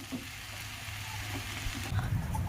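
Vegetables already fried are stirred and tossed in a hot pan for fried rice, giving a steady close sizzle with scraping, stirring rustles throughout, a little louder toward the end.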